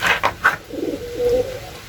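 Domestic pigeon cooing close by, a few soft throaty calls in quick succession followed by a longer low rolling coo, with no talk over it.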